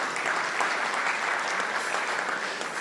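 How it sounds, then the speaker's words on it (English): A round of applause from a banquet audience at an evening Shura Council dinner, a dense, even wash of many hands clapping at steady volume throughout. "something that I also believe will deserve a big round of applause from all of us this evening"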